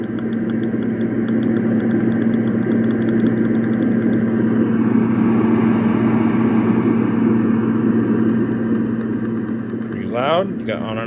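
A steady, droning hum runs continuously at close range, broadband and even, with a brief clicking touch near the end.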